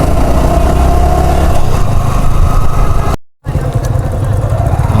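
A motorcycle engine runs steadily and loudly while riding toward bike parking at the Gazipur Safari Park, with a brief dropout near the end before the drone resumes.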